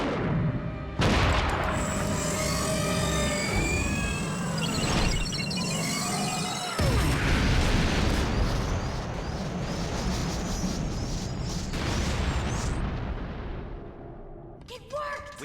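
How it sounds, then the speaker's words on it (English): A cartoon torpedo launches from a robot monkey team's spacecraft and sets off booming explosions in an asteroid field, with sustained roaring blasts and whooshes across the scene while characters talk over the action. "Zero, launch Torpedo 7."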